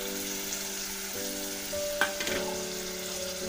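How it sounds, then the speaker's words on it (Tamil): Ground tomato paste sautéing in a pan for paneer gravy, a steady close sizzle with a couple of sharp spoon scrapes and clinks, under a faint constant background hum. "அதையும் இதில் போட்டு நல்லா அந்த பச்சை ஸ்மெல் போகிற வரைக்கும் அதையும் வந்து கொஞ்சம் வதக்கிக்கோங்க"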